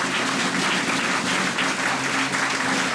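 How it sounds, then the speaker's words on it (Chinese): An audience applauds at a church ordination ceremony, a dense, even stretch of clapping from many hands that continues throughout without pause. "鼓掌。"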